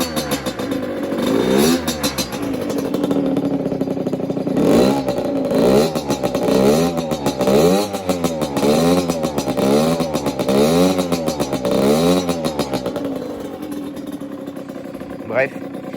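A cold motorcycle engine with a VOCA Rookie 50/70 exhaust revs repeatedly in a rhythmic rising and falling pattern, loud and close, with a voice speaking over it.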